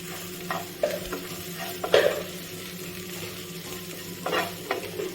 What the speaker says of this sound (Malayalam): ഇനി നമുക്ക് നന്നായി മിക്സ് ചെയ്യാം.